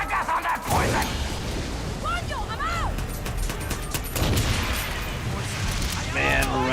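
Far Cry 6 gunfire: scattered shots and rapid bursts crackle through a busy mix of game effects and voices, moderately loud and irregular across the stretch.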